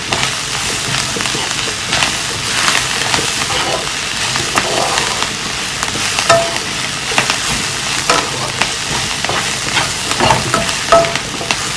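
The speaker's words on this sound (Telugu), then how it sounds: "ఇలా నేను ఇవన్నీ ఫ్రై చేస్తున్నానని చూడండి" Fish pieces fry in an onion masala, a loud, steady close sizzle with bubbling crackle and occasional stirring scrapes running throughout.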